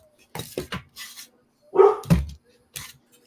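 A dog barks a few sharp, close woofs indoors, mixed with short whines and a voice talking around the barks.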